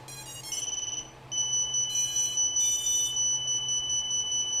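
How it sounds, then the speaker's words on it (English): The buzzer on an HGLRC Rekon FPV drone shrills in a high, piercing tone, first as a quick run of chirps, then in longer repeated pulsing bursts, loud and close with no voices. "turn the buzzer off first"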